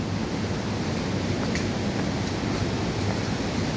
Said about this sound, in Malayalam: ഇങ്ങനെ വെള്ളം ചാടുന്ന ആ സൗണ്ട് ഇങ്ങനെ കേൾക്കുന്നുണ്ട് നടക്കുന്നതിനനുസരിച്ച്.